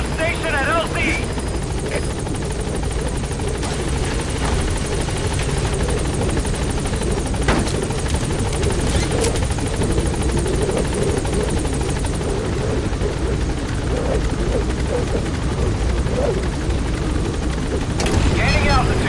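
The Pequod helicopter in Metal Gear Solid V arrives at a landing zone with a loud, continuous rotor thump and engine roar, accompanied by scattered gunfire-like pops and radio-style talk over the noise.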